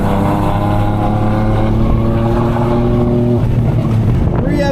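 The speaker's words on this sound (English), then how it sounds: "3 F80s on track" BMW F80 M3 cars on a race track, with a loud, steady engine drone and a rising tone shift near the end, recorded close with wind buffeting and a voice faintly underneath.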